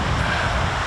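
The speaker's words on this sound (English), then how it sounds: "the waves and the wind have just been a little too much" Wind roars and waves wash on Hogan Lake in Algonquin, a loud, continuous broadband rush buffeting the microphone for a short moment.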